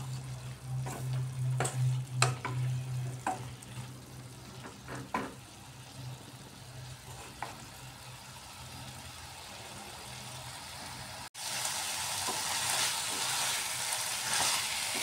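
Cauliflower, potato, tomato and yogurt sizzle steadily in a pan as they are stirred, with scraping strokes early on and a louder, brighter hiss of frying after a brief cut near the end.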